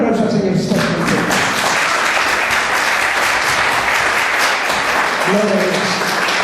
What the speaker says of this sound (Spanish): Dale un aplauso al Señor si estás contigo